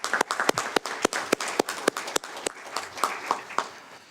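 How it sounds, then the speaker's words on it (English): An audience at a county board of supervisors meeting claps for young community leaders, a short burst of sparse, sharp hand claps that thins out over a few seconds. "So if we could give these amazing young leaders of Monterey County a big round of applause"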